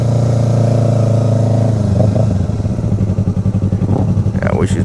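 Kawasaki ZX 350 motorcycle engine at a car show, a steady loud idle drone that breaks into choppy revving bursts, with people talking nearby.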